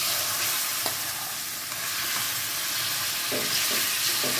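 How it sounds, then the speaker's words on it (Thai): Minced pork stir-frying in sunflower oil, a steady close sizzle throughout with occasional faint scrapes of a spatula against the pan. "ผัดหมูสับก่อนนะคะเนาะ"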